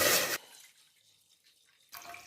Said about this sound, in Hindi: थोड़ा पानी ऐड करने लगे हैं,